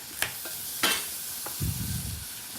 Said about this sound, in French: c'est le moment où on flambe